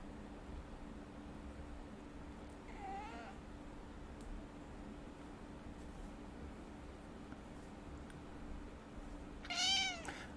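A pet cat meows twice against a steady background hum, a short faint call near the start and a louder, closer one near the end, with no talk.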